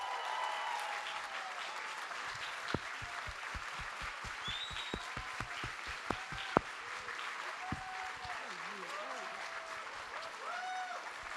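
A live audience claps as a singer is welcomed onto a tribute talk show stage, a sustained even patter of many hands, with a few sharper individual claps and voices calling out over it.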